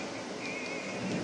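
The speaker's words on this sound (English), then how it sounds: "It's storming outside in real life." A thunderstorm outside produces a steady wash of rain noise with a low rumbling undertone, continuous and fairly faint, with no voices.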